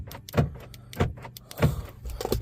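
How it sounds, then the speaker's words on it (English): A 2019 Chevy Silverado's door locks cycle, four sharp mechanical clunks spaced about half a second apart, close and clear with no talk. "You can hear the doors lock cycle."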